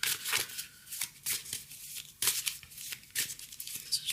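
Tarot cards being shuffled and drawn, a run of crisp papery riffles and flicks repeating in quick bursts, close and fairly quiet, with no talking.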